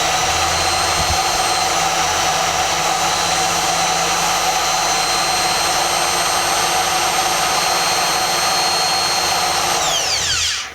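A power drill with its bit held lightly against a cake stand surface, wearing a bullseye pattern without boring through, whines steadily and loudly for about ten seconds before winding down at the end.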